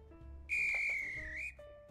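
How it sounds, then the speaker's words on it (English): A guard's shrill whistle blows once for about a second at a train's departure, loud and steady with a slight wavering pitch, over a low hum of the train's cab. "Whistle, whistle."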